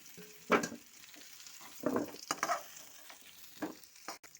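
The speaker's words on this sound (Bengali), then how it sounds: "এটা ভালো করে একটু ভেজে নিয়ে তুলে নেব" Vola fish fries in oil in a pan, a faint sizzle broken by a few separate bursts of spattering and the clink of turning or lifting the pieces.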